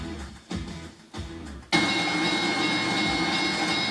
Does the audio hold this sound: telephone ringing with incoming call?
no